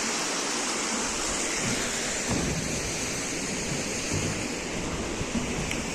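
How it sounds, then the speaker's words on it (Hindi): A low-flow waterfall on the Pindari Glacier trek in Uttarakhand, thin after a long dry spell, gives a steady broadband rush that stays even and close for the whole stretch, with no voices over it. "पहला वाटरफॉल आता हुआ। अभी बारिश नहीं हुई काफ़ी टाइम से, तो कम ही है पानी"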